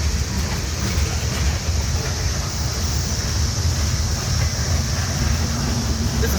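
A slow-moving train passes at a Wartrace, Tennessee rail meet as a steady, close rumble with a continuous low roar and a broad hiss across the whole span, and no voices.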